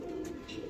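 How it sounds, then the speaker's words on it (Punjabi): A Ghamgar pigeon coos once at close range, a soft low throaty note held for under a second against light background noise. "ਪਿਓਰ ਘਮੱਗਰ ਕਬੂਤਰ"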